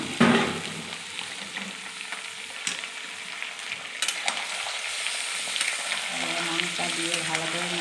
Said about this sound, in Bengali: মাংসটা দিয়ে ভালো করে নাড়াচাড়া করে নিতে হবে।